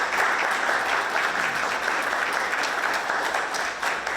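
Sustained applause from a crowd at a community and statewide reopening celebration honoring Spokane leaders, a thick, loud, unbroken wash of clapping hands up close.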